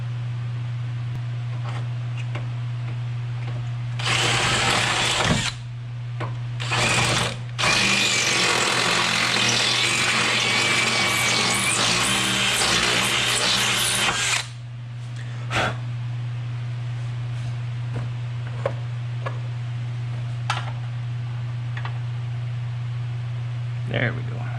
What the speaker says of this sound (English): once you have your holes drilled